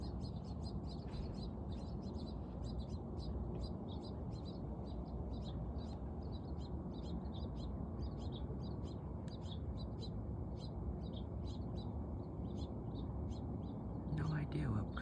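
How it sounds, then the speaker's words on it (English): Birds call outdoors on an early morning, with a steady run of quick repeated chirps and tweets over a constant low background rumble, and a voice faintly present. "No idea what kind of birds those are."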